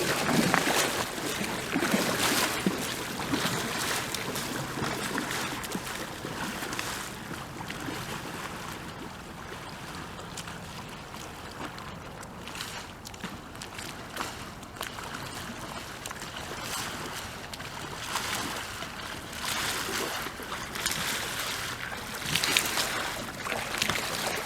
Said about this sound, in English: those last couple, I kind of did some kind of draw strokes to keep the paddle blade in the frame.